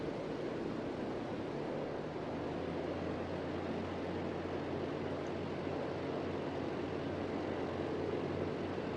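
A Grumman Albatross seaplane in Microsoft Flight Simulator runs its propellers in reverse thrust, a steady, dense engine and airscrew roar that stays constant throughout.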